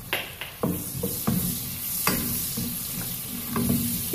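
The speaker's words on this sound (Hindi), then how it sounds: "ऑयल गर्म हो गया है। इसमें हम डालेंगे प्याज।" Chopped onions hit hot oil for pav bhaji, sizzling steadily with scattered knocks and scrapes of a spoon stirring the pan, close and moderately loud with no talking.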